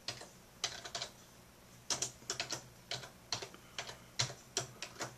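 Keys clatter on a computer keyboard as a message is typed into a small JavaScript web page, coming in quick bursts of clicks with short pauses between them, close and fairly quiet against a faint steady hum.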